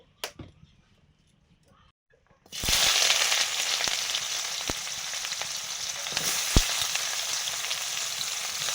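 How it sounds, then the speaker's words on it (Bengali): Spices for tempering hit hot mustard oil for masoor dal with a sudden loud sizzle after a quiet start, then a steady close crackling fry with a few sharp pops. "এখন আমি ফোড়ন দিয়ে দেবো ডালে, মুসুর ডাল। সরষের তেল"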